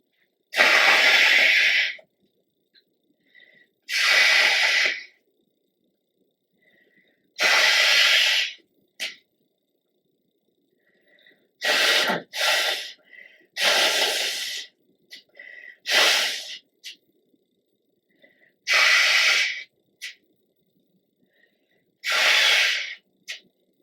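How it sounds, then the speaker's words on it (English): Sharp, hissy nasal sniffles from a person with a cold repeat about a dozen times at irregular intervals, loud and close, separated by quiet pauses. "Sorry, I have to sniffle."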